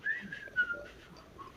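A person whistles a short melodic tune in imitation of the whistle from a Grubhub commercial. The whistle is thin and fairly faint, a rising and falling phrase lasting about a second, heard alone.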